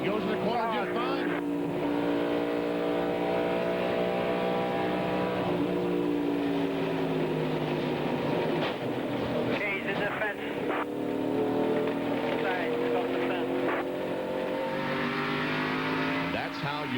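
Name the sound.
NASCAR stock car racing at Darlington, onboard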